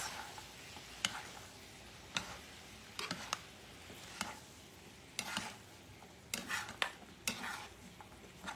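Chicken and broccoli being hand-mixed in a bowl, with scattered soft clicks and wet squelching bursts at irregular intervals over a quiet background, no talking.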